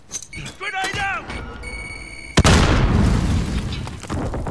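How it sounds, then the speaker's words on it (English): A grenade explodes in the shooter game Warzone with a sudden loud, crackling blast followed by a long, roaring rumble. A short voice and electronic game tones come just before it. "Grenade out!"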